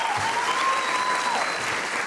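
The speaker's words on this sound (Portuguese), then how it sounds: "Vocês estão aplaudindo que eu apanhei?" Studio audience at a Brazilian late-night talk show applauds steadily, a dense wash of clapping with a faint tonal whistle-like sound over it.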